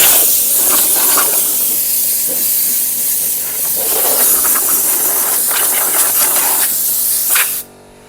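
Compressed air blasts steadily through the drain holes of a Porsche Boxster 986, a loud, continuous close-up hiss that cuts off abruptly near the end.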